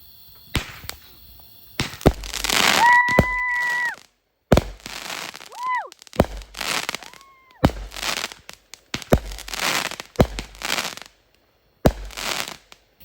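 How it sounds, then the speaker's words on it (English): A 100-shot Saturn missile fireworks cake at a Fourth of July backyard show firing in rapid bursts of sharp pops and whistling streaks, loud and close, with brief pauses between volleys. "It's a 100-shot Saturn missile."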